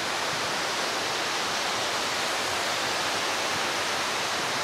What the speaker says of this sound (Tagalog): Kitang-kita yung falls dito.